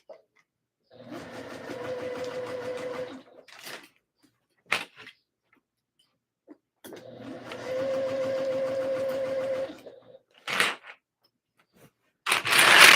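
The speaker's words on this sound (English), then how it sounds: "longer stitch length, 1/4 of an inch seam allowance, and just sew all the way around" Sewing machine stitching a long seam around a skort at a longer stitch length, running in two sustained bursts of steady whirring motor and needle chatter, separated by quiet pauses and a few handling clicks.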